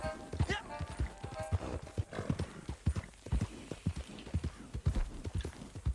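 A horse gallops in Red Dead Redemption 2 Online, its hooves pounding in a quick repeating clip-clop rhythm, with a brief whinny early on and a voice talking over it.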